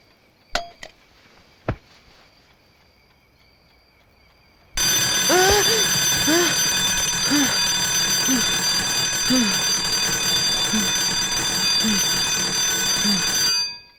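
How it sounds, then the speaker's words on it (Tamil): A loud alarm clock rings continuously for about nine seconds, set for 5 a.m., after a few faint knocks and clicks in an otherwise quiet bedroom at night. "கரெக்டா 5 மணிக்கு அலாரம் அடிக்கும்ல"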